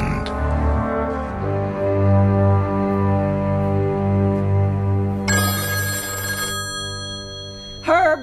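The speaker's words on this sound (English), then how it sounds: "the phone" A telephone rings in two bursts of bright, buzzy bell tones over a steady musical drone in a radio drama, the second ring shorter.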